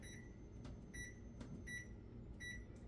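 Microwave oven cooking chicken and rice runs with a soft low hum, broken by several short, regularly spaced electronic beeps from the control panel, with nobody speaking.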